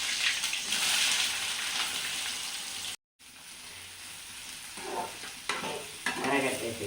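Curry leaves crackle and sizzle in hot oil while being stirred in a pan for a mango and garlic curry. The hiss is loud and steady, a brief dropout interrupts it, and scraping stirs follow near the end.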